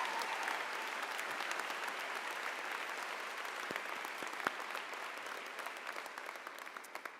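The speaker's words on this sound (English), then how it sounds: "Can we give a round of applause for the people who have helped you get to the seat you're sitting in today?" Audience applause at a Yale School of Public Health diploma ceremony, a steady, dense wash of clapping from a large seated crowd that holds evenly for several seconds.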